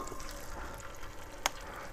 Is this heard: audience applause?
no